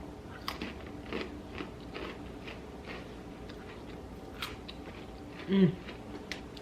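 Someone chewing crunchy baked holiday snack mix up close, with irregular crunches and bites throughout and one louder mouthful near the end, no words spoken.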